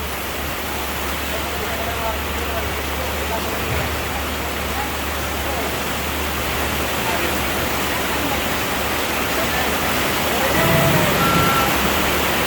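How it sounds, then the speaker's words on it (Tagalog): Heavy rain pours steadily over an outdoor spot by a river, forming a dense, constant wash of noise that holds even throughout and swells slightly near the end, with no talk. "Guys, ang lakas ng ulan."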